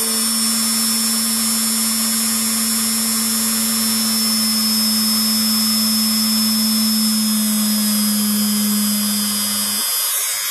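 Small drill bit boring straight through a workshop shaft, a steady, loud motor whine held for about ten seconds before cutting off abruptly near the end, with no talking.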